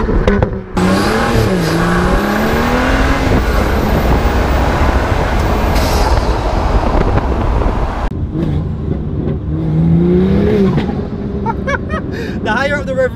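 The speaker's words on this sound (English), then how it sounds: "When you turn traction control off, you get little burbles." A Stage 2 Plus BMW M2 tuned to 440 bhp with methanol injection, traction control switched off, revs hard and loud up close, its engine note climbing and falling in sustained pulls, with a brief drop before the throttle opens again.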